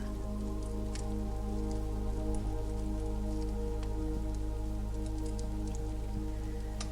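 Rain falls softly around a wooden cabin in the woods, scattered drips and patters ticking over a constant low hum, quiet and continuous with no voices.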